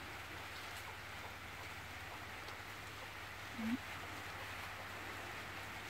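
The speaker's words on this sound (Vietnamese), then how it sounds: "Bây giờ mới nắng nắng một tí lại mưa." Steady rain falls in Kon Tum, a continuous even hiss of drops on surfaces with no other sound standing out.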